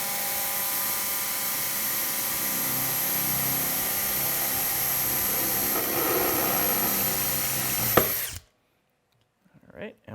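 A power drill whirs continuously at high speed while boring through an arm section for a rivet, then stops abruptly, followed by near silence and a faint handling noise.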